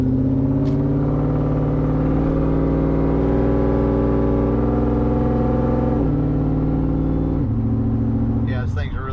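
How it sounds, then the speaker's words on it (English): Supercharged Ford Lightning pickup truck engine held at part throttle, a loud, steady exhaust drone with deep harmonics that shifts pitch briefly near the end as revs change, close and continuous. "I'm just going to give you guys like a part throttle so you understand what it sounds like under acceleration"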